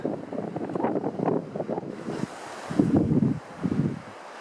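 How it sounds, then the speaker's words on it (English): Wind gusts across a lake beneath a ridge, a low buffeting rush against the microphone that swells and fades in uneven waves, with no voices. "Getting windy again."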